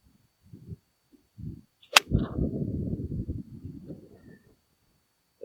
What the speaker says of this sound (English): Front pin, 115, hit a pitching wedge.